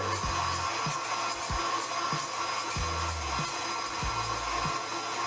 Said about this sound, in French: Et on va laisser tourner le batteur jusqu'à ce que le mélange refroidisse.